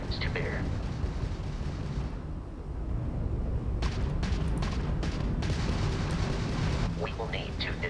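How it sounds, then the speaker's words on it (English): Starship weapons from a Crimson Fleet ship in Starfield fire in a run of heavy booming blasts and bursts, dense and loud, with a voice speaking over part of the barrage. "that's a Crimson Fleet ship bringing its weapons to bear"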